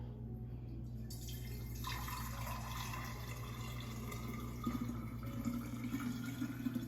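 Roasted vegetable broth poured into a bottle, a steady trickling and gurgling fill that runs for several seconds, close and moderately quiet, with a few louder splashes toward the end.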